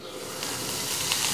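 Dry-roasting chana dal, roasted gram, tamarind and dried red chillies in a pan for chutney gives a steady, moderately loud hiss and sizzle throughout, with no one talking.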